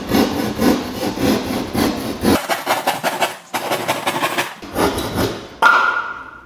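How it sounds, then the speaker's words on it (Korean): A small keyhole (rat-tail) saw cuts a hole for a downlight through a ceiling panel, giving close rasping strokes in steady bursts with brief pauses between runs and no talk. "이렇게 한 점을 밀고 들어가서 여기서부터 톱질을 해주면 되는 거예요"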